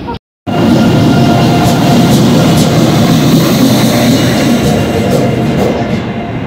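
A passenger train, a double-decker AC express from Tirupati to Visakhapatnam, rumbles loudly and steadily at close range after a brief pause as a goods train crosses alongside at the station.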